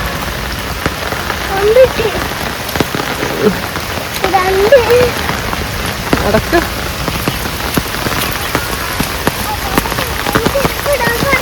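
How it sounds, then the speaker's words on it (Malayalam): Heavy rain pours steadily and loudly onto surfaces close by, a dense continuous patter of drops, while a voice speaks briefly. "നല്ല മഴയാണ് കേട്ടോ"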